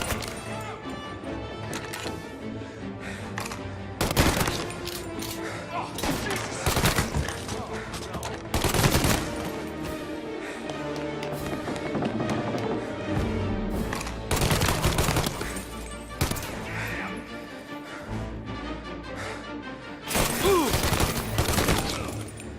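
Gunfire from a shootout in Mafia: Definitive Edition, with loud bursts of rapid automatic fire and single shots in clusters, crashes between volleys, and voices shouting amid the fighting.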